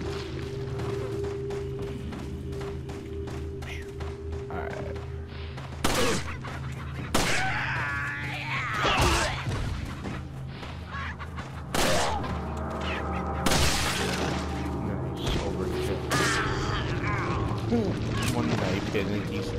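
Gunfire in the Resident Evil 4 video game: several loud shots ring out over a sustained in-game ambience and music bed, with people talking over the action.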